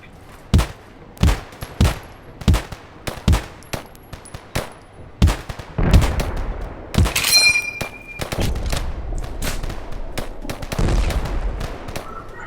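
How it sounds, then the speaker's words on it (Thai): Gunfire in the online shooter Poly Field rings out as sharp, spaced shots, then a denser burst of rapid automatic fire with louder, overlapping blasts, all close and with no talking. "ยิงไม่โดนเลยอ่ะ ต้องเข้าใกล้กว่านี้"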